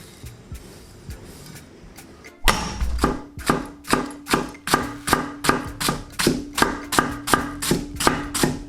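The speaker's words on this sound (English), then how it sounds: "Let's use our knives to cut some vegetables" A sharp Kamikoto knife chops vegetables on a cutting board. After a few soft handling noises come about a dozen crisp, evenly spaced chops, roughly two per second, close and distinct.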